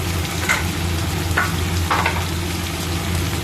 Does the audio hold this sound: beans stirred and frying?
yes